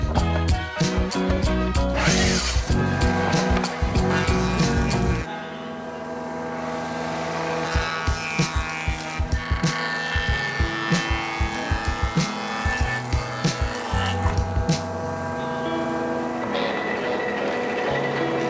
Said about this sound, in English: take it over to the jointer and thicknesser, and get these pieces down to our rough dimensions of 35mm thick